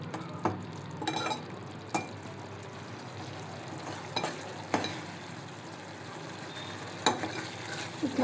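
Prawn curry simmering in oil in a pan, a steady soft bubbling hiss with occasional louder clinks or pops scattered throughout, close and moderately quiet, no voices.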